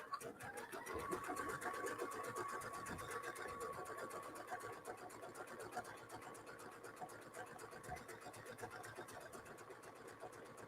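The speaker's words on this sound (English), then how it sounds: "we'll just start stitching" A Brother Luminaire XP2 sewing and quilting machine stitches steadily at close range, a dense, fast mechanical whir with a constant rhythmic chatter that runs unbroken throughout, with a faint voice now and then underneath.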